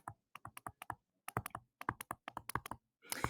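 Numbers typed on a computer keyboard in a quick, uneven run of crisp key taps with short pauses, ending in a louder, busier burst of keystrokes; close and clear, with no voices.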